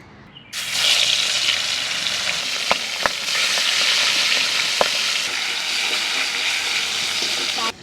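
Something dropped into hot mustard oil bursts into a loud, steady frying sizzle that holds close and constant, with a few sharp clicks of utensils.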